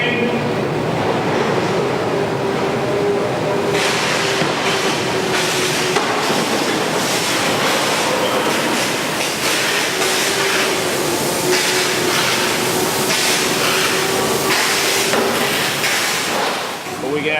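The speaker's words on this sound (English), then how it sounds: "Here comes a train." A subway train rumbles loudly and continuously, with screeching metallic wheel noise and steady roar throughout, as if passing close by.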